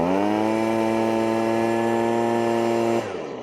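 A leaf blower idles during solo hazard-reduction burning, its engine a steady, buzzing drone held for about three seconds before the pitch drops and it quiets.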